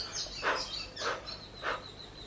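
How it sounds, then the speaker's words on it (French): Birds chirping outdoors on a hot day, three short faint chirps spaced evenly over a quiet background. "il y a des oiseaux"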